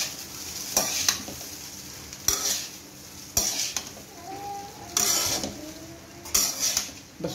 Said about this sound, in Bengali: শুধু ভাতটাকে আমি ভেজে নিচ্ছি।